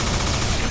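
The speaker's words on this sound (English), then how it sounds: "Proton cannon!" A short, dense burst of proton cannon fire in Marvel vs. Capcom fills the whole moment, loud and noisy with rapid overlapping booms.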